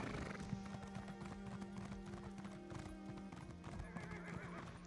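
Rhythmic clip-clop of horse hooves in the Elder Scrolls Online video game, steady and continuous, under a layer of game music and ambient sound.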